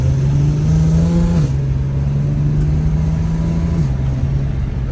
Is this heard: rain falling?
no